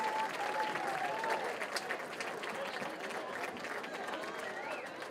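Steady applause from a large crowd at a high school homecoming court announcement fills the whole stretch, with scattered cheers and a faint whistle rising over the clapping.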